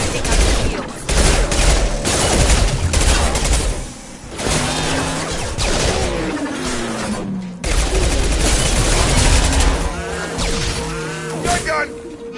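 Bursts of automatic gunfire and weapon blasts from a Mass Effect 2 firefight, dense and loud throughout, with game voices calling out over the shooting.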